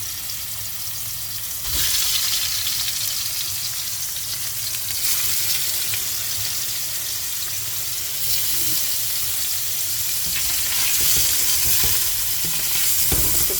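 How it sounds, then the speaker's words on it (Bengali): Thinly sliced hilsa fish frying in oil, a loud dense hiss and spatter that swells and eases over the whole stretch, close and without talking. "এখন ইলিশ মাছটা ভেজে নিব।"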